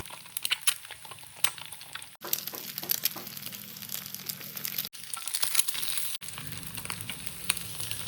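An egg fries in a hot pan, a steady crackling sizzle with bright spitting pops that runs throughout, broken by a few brief cuts.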